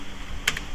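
A single sharp keystroke on a computer keyboard, the Enter key, clicks once, brief and close in a quiet room.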